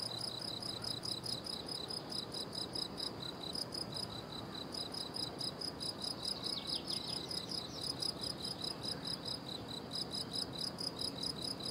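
A steady, dense chorus of cicadas shrills without pause, loud and close, a rhythmic pulsing trill that fills the whole stretch with no voices over it.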